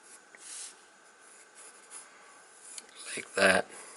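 Colored pencil drawing on paper, soft scratchy strokes rubbing back and forth close up, quiet and intermittent, with a louder rasping burst near the end.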